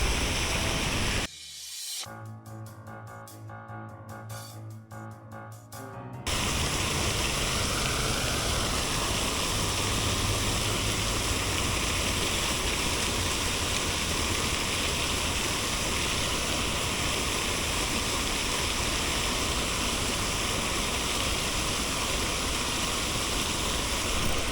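A lake fountain throws up a steady, loud rush of splashing water that runs unbroken for about twenty seconds, after a short quieter moment at the start.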